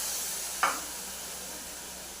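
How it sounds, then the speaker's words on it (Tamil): Tamarind water hits a hot frying pan with a quick splash, then a steady close sizzle and hiss that fades slightly, with no talking. "இப்போ இந்த அளவுக்கு நல்லா பொரிஞ்ச பிறகு புளி கரைச்சி வச்சுருக்கோம்ல அதை ஊற்றிக்கலாம்"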